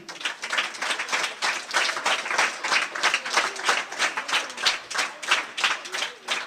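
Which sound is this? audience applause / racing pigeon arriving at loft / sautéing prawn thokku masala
audience applause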